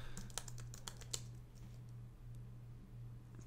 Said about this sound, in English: Now we get some text fields that we can type into.